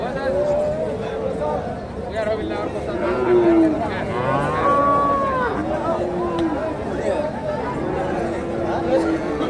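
A Friesian calf lets out drawn-out moos amid the busy chatter of a crowded cattle market in Bogura, Bangladesh, with people talking nearby.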